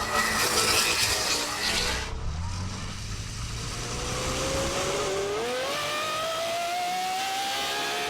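A Lamborghini Temerario and a Revuelto accelerate hard in a half-mile drag race, a loud engine roar that drops at a gearshift and then climbs steadily in pitch as the cars pull away, with no talk.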